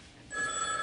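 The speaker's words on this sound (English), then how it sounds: "I never let a phone ring 23 times." A telephone bell begins ringing partway through, a bright sustained ring rising over a soft background hiss, close and moderately loud.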